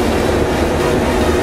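Yesvantpur–Kannur passenger train rolling past with a steady rumbling rush and faint wheel clatter, close and continuous, no voices.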